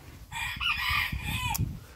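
A rooster among Araucana-type green-egg chickens in a coop gives a loud, close crow that holds for over a second, with low clucks and scratchy movement beneath it.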